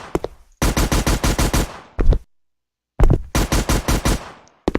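Simulated automatic gunfire from a Unity game recoil demo comes as loud bursts of rapid shots, about six in a row, then a short pair, a silent gap and another run of five or six, close and dry with no talk.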